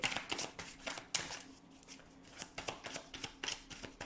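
Cards from an oracle deck being handled and drawn, a quick series of crisp papery riffles and flicks close by, with short bursts and brief pauses between them.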